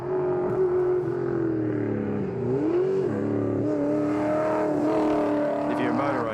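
A heavy rally car at TARGA Tasmania 2014 roars loud and close, its engine note climbing and sweeping through revs with a brief dip midway, a continuous high-speed pass with a voice faintly under it.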